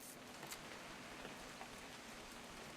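Steady rain falls in the video game Edith Finch, heard as a soft, continuous hiss with no voices.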